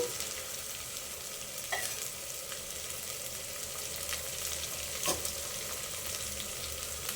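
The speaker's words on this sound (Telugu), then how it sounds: "ఈ పట్టా, లవంగ్, ఇలాచీలు కూడా వేసుకోవాలా. పచ్చివాసన పోయే వరకు అయితే ఫ్రై చేసుకోవాలండి." Whole spices (cinnamon, cloves and cardamom) frying in oil in a pan for chicken pulao, a soft steady sizzle with a few brief scrapes of stirring.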